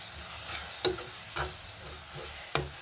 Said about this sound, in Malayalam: എന്നിട്ട് നല്ലതായിട്ട് നമുക്ക് ഇളക്കാം